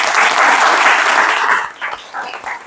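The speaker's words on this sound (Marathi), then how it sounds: "तर त्यांच्यासाठी पुन्हा एकदा टाळ्या होऊ द्या।" Children and parents at a wrestling summer camp applaud students for their exam results, a loud, dense burst of clapping that fades after about a second and a half into a few scattered claps.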